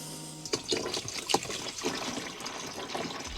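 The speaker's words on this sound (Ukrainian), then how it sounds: "додаємо води із цієї канистри" Water is poured from a canister into the cassette of a Thetford RV toilet, a close trickling and splashing stream that runs continuously with small gurgles, and no one speaks.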